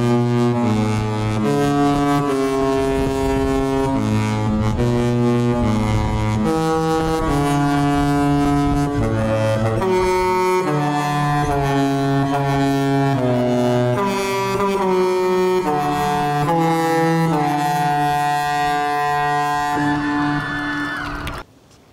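A container ship's deep horn sounds as a birthday greeting in the Hamburg harbour, a long, loud chord of sustained blasts that shift pitch in steps over about twenty seconds before cutting off, with wind noise beneath.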